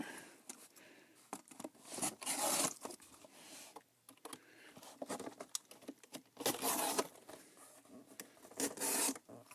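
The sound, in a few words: cutting cardboard box corner for shipping LEGO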